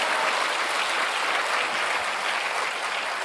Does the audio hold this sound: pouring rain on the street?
no